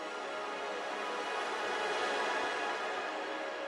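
A grainy, atmospheric texture pattern from an 80s city pop sample outro, a steady hissing wash of noise holding at an even level throughout, with no voices.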